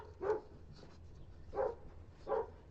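Puppies giving three soft, evenly spaced yips or whimpers, faint and somewhat distant in a quiet room with a low background hum.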